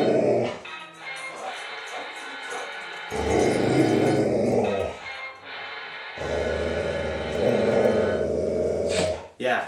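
A pet dog barks and growls loudly in long rough bursts, with a short quiet break between outbursts, close to the microphone.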